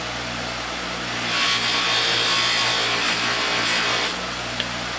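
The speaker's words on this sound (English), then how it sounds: "we're going to use some of our polishing compound on the wheel and get it conditioned" A buffing wheel spinning against a bar of polishing compound while being conditioned for restoring an Opel GT gas cap gives a steady whirring rub that swells louder in the middle, then settles back, with no talk.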